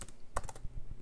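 A brief burst of typing on a computer keyboard, a quick cluster of sharp, close key clicks with a few softer taps trailing off in a quiet room.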